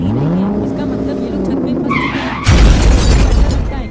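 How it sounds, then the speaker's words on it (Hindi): A cartoon car's tires squeal into a skid before it slams into a plague doctor character in a horror hospital scene, ending in a loud, sudden crash and clatter after a few seconds of higher, voice-like tones. "बुल्ली ने तो गाड़ी से प्लेग्यू डॉक्टर को ठोक दिया जिससे प्लेग्यू डॉक्टर दूर जाकर गिरता है।"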